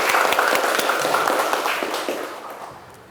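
Classroom group applause after a student presentation, a dense burst of close hand-clapping that fades out over a few seconds.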